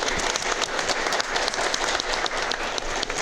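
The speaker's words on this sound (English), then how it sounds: "I think that deserves a round of applause, don't you?" A crowd gathered at a charity speedrun marathon event applauds, a dense and continuous wash of many hands clapping at even loudness, close and unbroken throughout.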